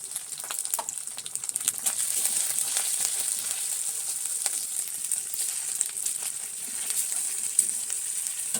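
Chili powder fries in hot oil for a fish kofta curry, giving a continuous bright sizzle with light crackles and occasional stirring, loud and close with no talking.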